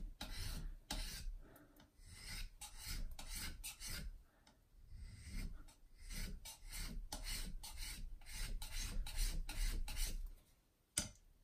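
A steel blade is reprofiled on a single natural whetstone, giving rhythmic gritty rasping strokes in bursts with short pauses, close and fairly quiet, with no voices.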